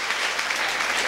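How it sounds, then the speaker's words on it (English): A church congregation at a women's conference claps together, a thick, even burst of applause throughout, with no speech audible. "Clap for Jesus."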